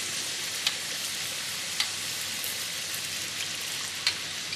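Sweet potato karipap curry puffs frying in hot oil, a steady close sizzle and crackle with a few sharper pops spaced out, no talking.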